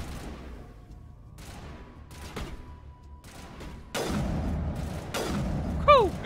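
Sniper rifle fire in Mass Effect Legendary Edition on PS5: a few sharp, loud shots with booming tails, then a whooshing sweep near the end, with no talk.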